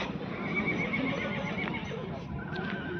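A horse whinnies against a busy outdoor background at a horse fair, with people talking nearby and faint hoof movement.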